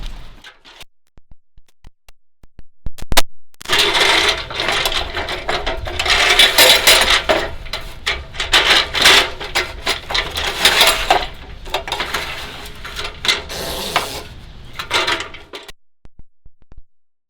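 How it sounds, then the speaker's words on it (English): A ladder set up on a roof is unlatched and slid out, producing a burst of metallic scraping, rattling and clanking for about twelve seconds, loud and close, with near silence before and after. "so I'll detach this ladder, slide it out now"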